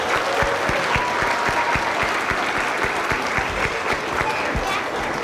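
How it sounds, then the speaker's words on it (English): A school audience applauds a second grade concert, a close, steady patter of many hands with distinct sharp claps up front, continuous for several seconds while speech murmurs underneath. "Let's give them another nice big round of applause."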